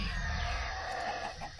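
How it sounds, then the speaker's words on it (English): Chicken clucking from a spawned chicken in Minecraft, a steady run of game-animal clucks over a constant background of game ambience, no talk. "I suppose I could spawn a chicken."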